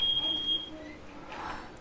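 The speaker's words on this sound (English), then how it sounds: "fire alarm is on." Piercing steady fire alarm tone sounds loud for about half a second during a game design presentation, then cuts off, leaving faint room noise and a murmur of background sound.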